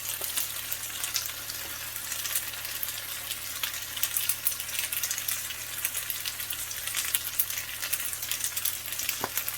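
Roasted garlic and peppers sizzle in a hot pan, a steady bright hiss with small crackling spits, moderately quiet and heard close without speech.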